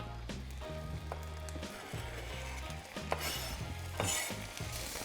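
Defrosted onions fry in coconut oil while being stirred, giving a soft sizzle under rhythmic scraping strokes of a utensil in the pan, close and moderately quiet, no voices.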